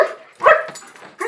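A dog barks in short excited bursts, one loud close bark followed by a few softer yips and whines, with a final sharp bark at the end, eager to head to the dog park.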